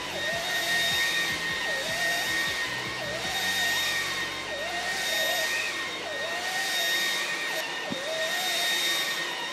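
A Dreame V11 cordless stick vacuum runs on medium over a carpet, giving a steady high whine and airy rush with slight pitch wobbles as the head moves, close and continuous.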